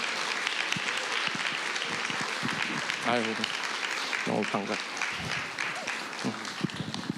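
A church congregation at a Sunday worship service claps warmly and steadily as a young man comes forward, with voices speaking over the applause.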